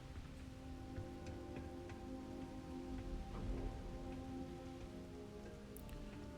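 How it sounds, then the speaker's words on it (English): Steady rain falling in the video game Starfield, a continuous even hiss of drops around a storm-wrecked house, with faint ticks and no talk over it. "That's okay, because it's raining."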